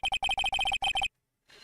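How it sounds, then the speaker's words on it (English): A phone ringtone from the Ace Attorney video game plays a theme as a rapid run of bright electronic beeps for about a second, then cuts to silence before faint noise returns. "I know that song your phone plays when it rings."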